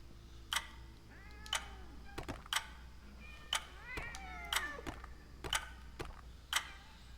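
An angry cat in the cyberpunk ghost game Sense gives a run of meows and yowls among sharp ticking clicks. The sounds are faint and come in a loose, repeating rhythm, and a voice talks over them.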